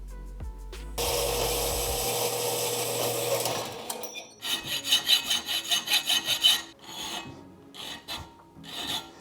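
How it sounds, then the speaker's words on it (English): A deburring tool scrapes the burr from the inside of a bicycle frame tube: first a long continuous rasp, then a run of rapid rhythmic scraping strokes, close and fairly loud, followed by a few more short scrapes. "This is my deburring tool. Just takes the burr off the inside."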